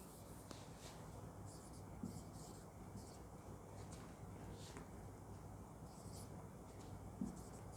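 Pen or marker writing out a result during a Class 10 maths lecture on real numbers, soft scratching strokes with occasional taps, close but quiet over a faint room hum.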